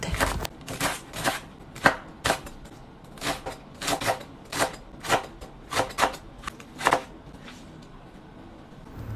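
Knife chopping through pechay (bok choy) roots on a cutting board, a steady series of about a dozen crisp, close cuts spaced roughly half a second apart.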